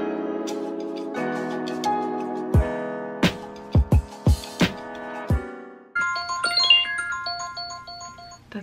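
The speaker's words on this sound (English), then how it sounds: "That's my alarm that Elenium's gonna play at 3:30." A phone alarm goes off as a tinkling, chiming ringtone with struck bell-like notes, fairly loud and close, followed by a quicker run of higher electronic tones.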